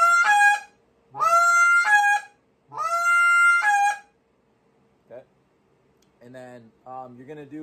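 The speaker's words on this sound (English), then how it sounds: "So what it's going to be like is just a really drawn out honk." A goose call is blown in long, drawn-out hail honks during contest-style calling, three loud sustained notes. Shorter, fainter, lower honks follow after a pause.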